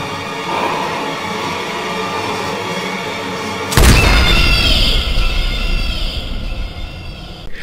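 A pistol shot to the head in the video game Bioshock 2: one sudden loud boom cuts through a rumbling, droning game ambience, followed by a ringing, swirling tail that slowly fades.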